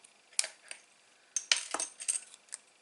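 A small piece of cardstock is trimmed at an angle for a handmade silhouette card, giving a few sharp, dry snips and clicks spaced unevenly, close and quiet with no voices.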